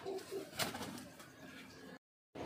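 Soft Punjabi pigeon coos with a low, murmuring tone, fairly close and steady, then a brief moment of silence.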